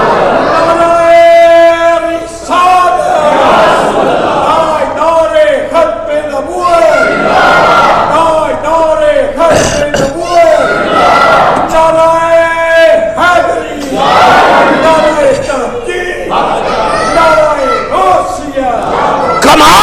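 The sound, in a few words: religious gathering crowd shouting a slogan response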